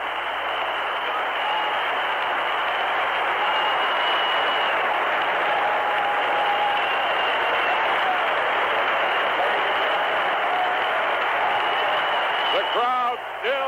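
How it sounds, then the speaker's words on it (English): A stadium crowd gives a standing ovation for Al Kaline's 3,000th hit in 1974, a dense, steady roar of cheering and clapping that holds throughout, heard over an old radio broadcast. "Listen to this standing ovation."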